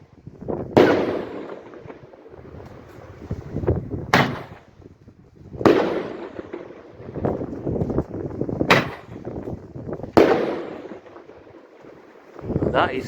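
New Year 2025 fireworks boom outdoors in a run of about six sharp, echoing blasts, each followed by a rolling crackle. Wind buffets the microphone, and a voice can be heard faintly under the noise.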